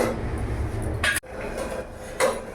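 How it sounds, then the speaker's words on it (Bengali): A metal lid set down on a pot of silver carp fish curry with potatoes, heard as a close clatter and a clank against the rim, followed by a second lighter knock. "এবার কিছুক্ষণ আমি ঢাকা দিয়ে রেখে ফুটতে"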